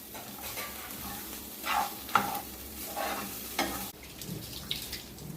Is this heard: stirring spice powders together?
yes